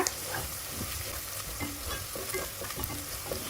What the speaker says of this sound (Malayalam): ഇനി ഇതെല്ലാം ചേർത്തിട്ട് നന്നായി ഒന്ന് മൂപ്പിച്ചെടുക്കാം മീഡിയം ഫ്ലെയിമിലാക്കിയിട്ട് മൂപ്പിച്ചെടുക്കുക